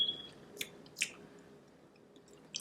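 Someone chews soft, spongy homemade vegan cheese, with a few faint moist squishing bites spread through a quiet moment, close to the microphone and with no talk.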